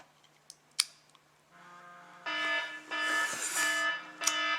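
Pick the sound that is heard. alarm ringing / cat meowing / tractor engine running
alarm ringing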